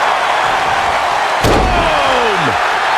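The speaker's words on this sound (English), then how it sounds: "Shot after shot and slamming their opponent's face to the canvas." A wrestler's face is slammed onto the canvas of a wrestling ring, giving one sharp, loud impact with a booming thud, set against a constant roar from the arena crowd.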